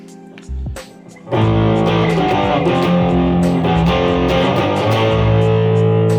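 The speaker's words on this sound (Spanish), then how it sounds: "cuando yo utilizo una distorsión" An electric guitar rings out through a distortion effect: a few muted picks, then a thick, sustained distorted chord that plays on loudly and steadily.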